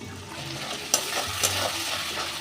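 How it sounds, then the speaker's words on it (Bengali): Tomato paste going into a frying spice masala for a duck egg curry, a close steady sizzle with two sharp spatula clinks against the pan as it is stirred. "এবার দিয়ে দেব এই টমেটো বাটাটা।"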